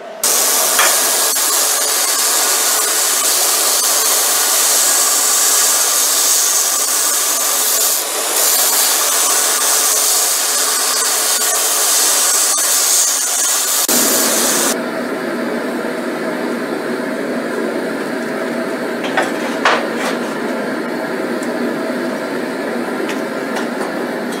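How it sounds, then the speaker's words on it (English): Belt grinder running continuously on a steel billet, cleaning up welds before forging Damascus; a loud, steady abrasive hiss for about fourteen seconds, then a lower, duller grinding tone as the contact changes, with a few brief scrapes. "I'll go to my belt grinder, do a little bit more surface prep on this side"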